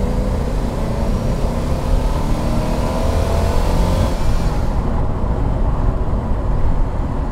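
A 1980s Mercedes-Benz C126 560 SEC with a 5.6-litre engine roars steadily, then its sound thins and fades as it drives away.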